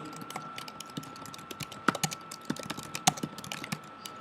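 Keys clatter in an irregular burst of typing on a computer keyboard as login details are entered, close and clear, with sharper accented strokes scattered through the run and no talking.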